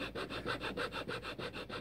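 Rhythmic back-and-forth rasping strokes of sanding on a carved natural wooden slingshot fork, about a dozen even passes, close and moderately quiet with no voices.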